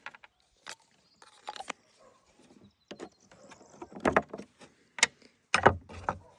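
A size 10 wrench loosening a slightly rusty locking nut on ARS VS-8XZ pruning shears, with sparse close metallic clicks and ratcheting scrapes between quiet pauses, growing busier toward the end.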